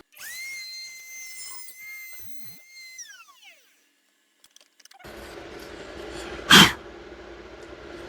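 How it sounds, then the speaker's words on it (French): A router fitted with a keyhole-shaped bit cuts a slot in a small wooden DIY piece: a high whine that winds down and fades, a silent pause, then rough, noisy cutting with one sharp burst. "je vais me servir d'une mèche en forme de clé"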